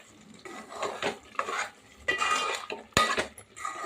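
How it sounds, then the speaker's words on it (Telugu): Andhra-style mutton curry stirred in a metal pot, a series of close, sharp scraping and clinking strokes of a spoon against the pot with a faint sizzle underneath, no talking. "ఇప్పుడు దీన్ని ఒకసారి మళ్ళీ కలుపుకుందాము."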